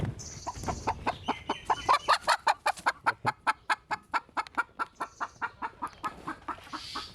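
Tiger breed hens on a poultry farm cackle in a fast, rhythmic run of sharp repeated clucks while laying eggs, close and steady over several seconds, with faint background noise.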